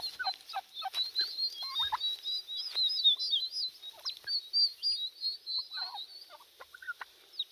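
Young turkey poults, about two to three weeks old, give a dense run of high, thin chirps and peeps, close by and busy throughout, with no talk over them.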